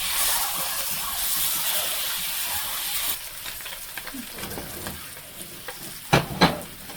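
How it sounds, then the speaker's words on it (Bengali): Eggs with turmeric and salt fry in a pan with a steady, close sizzle that fades after a few seconds. A few sharp clinks of stirring or a spatula on the pan come near the end. "একটু হলুদ আর লবণ দিয়ে আমার ডিমটাকে একটু ভেজে নেব হালকা।"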